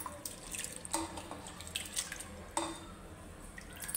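Water is drained off soaked sago (sabudana), heard as quiet trickling and dripping with a few sharp clinks of a vessel, in a faint and sparse scene.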